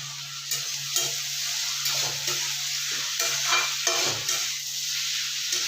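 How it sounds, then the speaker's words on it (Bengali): Potatoes fry in a pan with a steady loud sizzle, broken by repeated scraping stirs, close up with no talking. "এখন রাতে রান্না করতে দিয়েছি, আলু ভাজা হচ্ছে"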